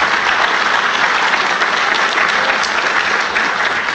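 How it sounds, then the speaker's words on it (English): Dense, even applause from a conference audience at a Perl talk, a steady wash of many hands clapping with no voices on top, holding at constant loudness throughout. "We should applaud that."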